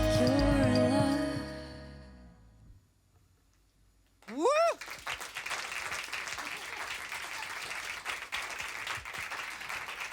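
A concert audience breaks into applause after a sustained musical note fades to near silence, the clapping rising suddenly and continuing loud and dense, with a few cheers mixed in.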